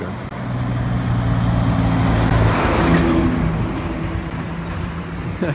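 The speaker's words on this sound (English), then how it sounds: "See, you asked, and here comes the truck." A big oil or propane delivery truck climbs a hill on a quiet morning street, its engine a loud, steady low rumble that swells as it passes close by and then eases slightly.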